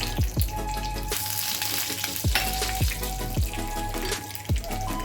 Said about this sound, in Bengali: এখন সর্ষেটাও দিয়ে দিলাম।